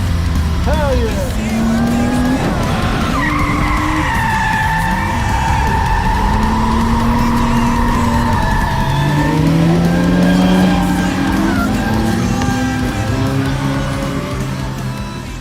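A 240SX drift car slides at a drift event, its tires squealing in long wavering howls over a loud, close engine that rises and falls as the car drifts on.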